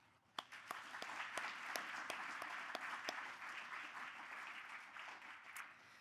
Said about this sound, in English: please join me in a round of applause also for our judges who make this whole thing possible as well